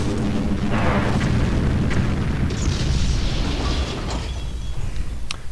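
Explosions from a flame tank and artillery fire in a real-time strategy game, heavy rumbling booms that overlap in a dense, loud roar, then thin out with scattered sharper pops near the end.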